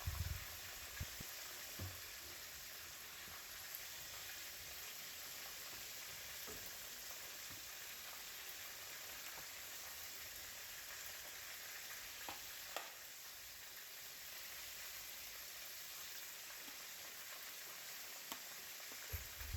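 Flour and milk sauce, with whole milk and half and half, is whisked in a hot pan for a copycat Cane's chicken tender sauce; a steady faint sizzle holds throughout with occasional soft taps of the whisk.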